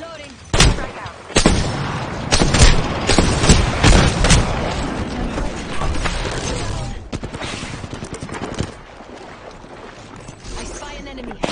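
Grenade blasts and heavy weapon fire in the Apex Legends battle royale shooter, Season 11: several sharp booming impacts in quick succession, then continuous loud rattling gunfire and combat noise, with voices talking over the action.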